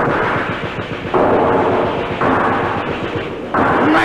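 A Lewis gun fires in a wartime battle scene, heavy booming rounds and rumbling blasts in a continuous loud barrage that surges in three waves, with no voices.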